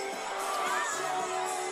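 Crowd of high school football fans, a student section in the visiting stands at a Bakersfield High game, cheering and shouting in a steady, loud wash of voices.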